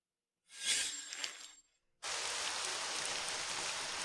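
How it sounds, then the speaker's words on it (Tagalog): Heavy rain pouring down steadily, a loud dense hiss that cuts in abruptly and continues without a break, following a short earlier burst of similar noise. "Napakalakas ng ulan."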